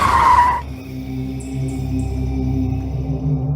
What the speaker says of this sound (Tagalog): Mabilis na natapakan ni Marshall ang preno matapos may biglang tumawid na tao.